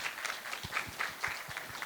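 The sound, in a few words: audience applause at panel discussion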